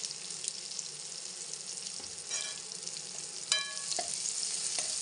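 Turmeric is stirred into a pea and potato curry frying in a pan, making a close, even sizzle with a few sharp clinks of a utensil against the pan, and no voices.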